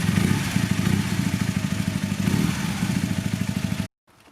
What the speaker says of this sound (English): I've now got it going on the start button